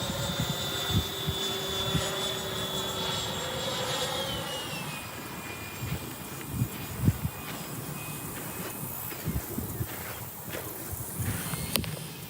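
An RC model F-35 jet flies overhead at an outdoor showcase, its turbine whine sweeping down in pitch as it passes, with scattered knocks and thumps nearby.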